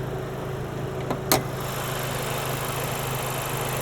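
The 320-horsepower K20C1 2-liter turbocharged four-cylinder of a 2024 Acura Integra Type S idles smoothly at a steady, low hum, with one brief click partway through.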